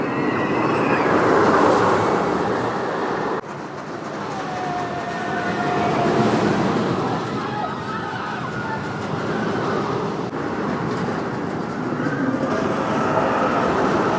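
Steady loud rumble and rattle of the Loch Ness Monster roller coaster train at Busch Gardens running along its track, continuous with slight surges, mixed with rushing air.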